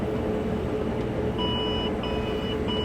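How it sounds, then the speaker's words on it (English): A combine harvesting corn gives a full grain tank warning: a thin, steady electronic beep repeating in short on-off pulses over the constant low rumble of the machine's engine. "And it's beeping at me, telling me your tank's full."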